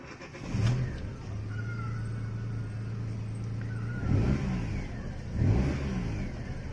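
A car engine with a faulty fuel pump cranks briefly, catches and settles into a steady idle, with a couple of short revs rising above the running hum.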